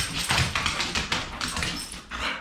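A puppy whimpers in a series of short, high-pitched whines with some tapping noises, fairly close and without speech.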